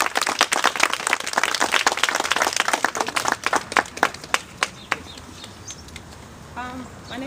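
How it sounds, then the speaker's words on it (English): Claps ring out from an audience at a New Jersey community event, a fairly sparse crowd giving sharp, distinct hand claps that thin out and stop, after which a voice begins speaking. "let us give a round of applause"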